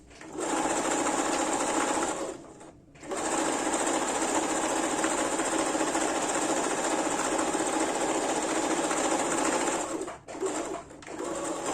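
Sewing machine running a zigzag stitch along a fraying fabric edge for a wrap top, loud rapid mechanical whirring in long continuous runs broken by two brief pauses.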